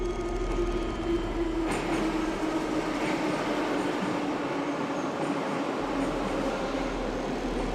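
A subway train rumbles through an underground metro station, producing a steady, loud roar with a faint squeal on top. The sound stays constant throughout, with no voices.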